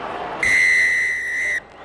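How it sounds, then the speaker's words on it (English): A referee's whistle starts the 2008 Scotland versus New Zealand All Blacks rugby test at Murrayfield, Edinburgh, with one loud, steady blast lasting just over a second over stadium crowd noise. "And the whistle blows, and the test match at Murrayfield is underway."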